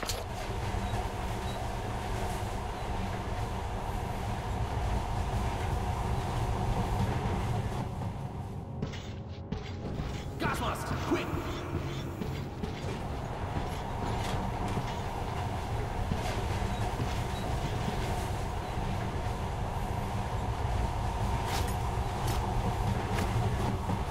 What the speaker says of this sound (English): So we head off on the train to D6.